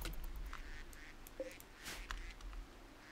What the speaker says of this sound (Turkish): Sürgün edilmiş ve kaybolmuş ördekler bölgeye girdi.